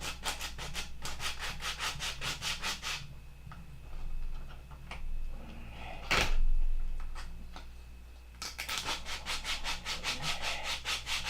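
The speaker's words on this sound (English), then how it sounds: "We'll just sand it to shape now." Horn clip being sanded to shape by hand, rapid rhythmic rubbing strokes in two runs with a pause and a knock between, close and quiet.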